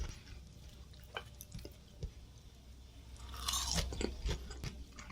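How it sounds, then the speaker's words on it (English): Crunchy bites of double-fried Japanese chicken karaage being chewed close to the mic, with soft irregular crunches and a louder burst of chewing near the end. "Can you hear that crunch?"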